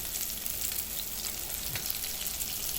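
Cashews roasting in hot oil in a pan for lemon or coconut rice, a steady close broadband sizzle throughout with a few faint stirring scrapes and no talking.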